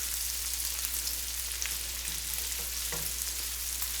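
Bacon and prosciutto frying in a pan for carbonara, giving a continuous soft hiss of sizzling fat over a low electrical hum, with no talk.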